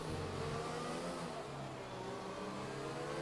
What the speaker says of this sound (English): spins his tyres up again